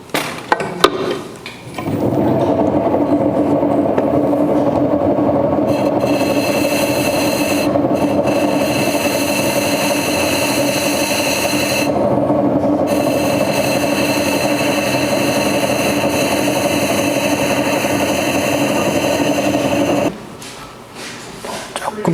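Steady rasping scrape of a blade shaving the surface of a plaster mold for slip casting, continuous and close for about eighteen seconds with brief pauses, no talking.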